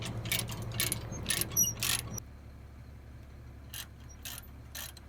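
Trailer landing gear is cranked down while a C8500 dump truck is hooked up, giving rapid clanking ratchet and gear clicks in bursts, fairly close. Sparser metallic clicks follow after a pause.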